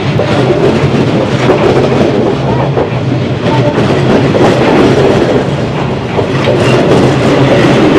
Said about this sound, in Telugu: మనం చాలాసేపటి నుంచి ఎదురు చూస్తున్న ట్రైన్ ఇప్పుడు వస్తుంది అనమాట